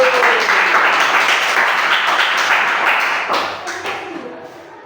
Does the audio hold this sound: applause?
yes